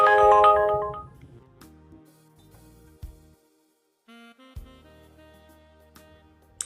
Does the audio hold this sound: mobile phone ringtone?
yes